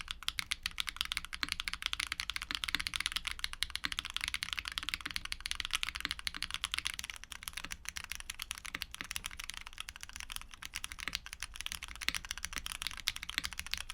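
Rapid, continuous clacking of a mechanical keyboard fitted with Gateron tactile switches, steady dense keystrokes at close range and moderate volume with no talking.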